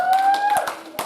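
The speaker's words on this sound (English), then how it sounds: "Clap your hands and celebrate God." A church congregation claps at a prayer service, with a few scattered claps sounding under a sustained sung or preached voice and musical tones.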